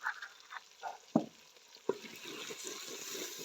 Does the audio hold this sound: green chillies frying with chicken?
yes